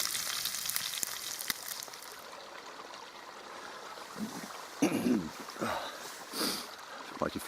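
Chopped wild garlic sizzles in a pan on a camp stove at an outdoor wild camp, a soft frying hiss with occasional louder bursts and scraping stirs, close up, no speech.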